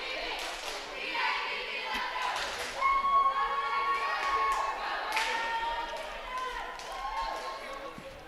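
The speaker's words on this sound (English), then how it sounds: "Great crowd here." A crowd fills a high school gym during a volleyball match, with a continuous murmur of voices, scattered shouts and cheers and thuds of play, while people talk nearby.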